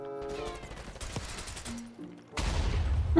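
Gunfire in a Call of Duty multiplayer match, Modern Warfare 3, a short burst of rapid shots followed by a louder blast, with players' voices chattering in the background.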